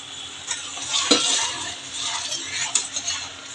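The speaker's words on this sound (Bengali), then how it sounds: "এখন আমি একটু গরম জল দিয়ে দিচ্ছি" Hot water is poured into a pan of frying fish masala curry (bhangar fish), giving a bright hiss and bubbling sizzle with a sudden surge partway through, along with a few clinks of a utensil against the pan, close and fairly loud.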